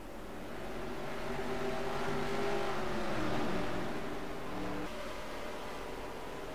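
Race cars in a racing video game roar around Myrtle Beach in a steady, loud engine drone that swells toward the middle of the stretch, with no talk.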